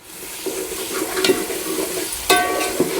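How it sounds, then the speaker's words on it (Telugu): Spices sizzling in a pan with mint and coriander added, a close hissing fry broken by a few sharp scraping stirs of a spoon, no talking. "పుదీనా కొత్తిమీర వేసి బాగా వేపుకుందాం"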